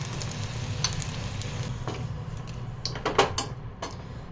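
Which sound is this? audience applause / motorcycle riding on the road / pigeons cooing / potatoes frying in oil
potatoes frying in oil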